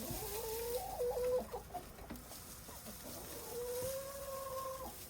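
Hens cluck in a farm coop on a blustery winter day, a couple of drawn-out, rising calls standing out over rustling and a steady windy background, fairly close.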